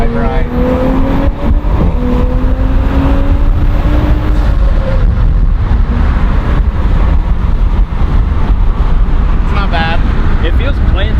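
An Audi S4 with a Pure 750 turbo upgrade accelerates from 50 mph onto a 70 mph highway on 93-octane fuel. From inside the cabin, a loud engine note climbs in pitch, then settles into a continuous heavy drone with road noise.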